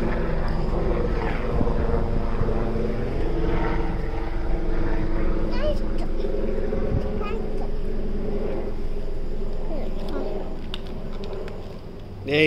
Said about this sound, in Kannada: ಬಂತು ಹೆಲಿಕಾಪ್ಟರ್